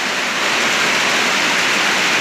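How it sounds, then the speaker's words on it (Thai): Heavy rain pours down at home in a loud, dense, unbroken roar of water, steady for the whole stretch with no voices. "ฝนตกเย็นสบายแล้วครับ"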